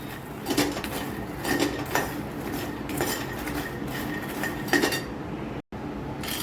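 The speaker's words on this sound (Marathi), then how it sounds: "आपण आता मखाने पण तुपामध्ये भाजून घेणार आहोत हलकेसे लालसर रंग येईपर्यंत" A spoon scrapes and clinks against a pan as puffed lotus seeds (makhana) roast in ghee, in steady repeated strokes over a low sizzling background.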